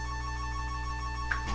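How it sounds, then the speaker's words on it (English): A telephone ringtone plays continuously, a steady electronic warble at moderate volume with no talking over it. "That is the phone."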